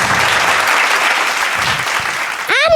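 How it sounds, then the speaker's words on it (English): A school audience at a literature festival applauds grade 2 students with dense, sustained clapping that fades slightly before a brief high chirping sound cuts in at the end. "Let's give them a roaring applause."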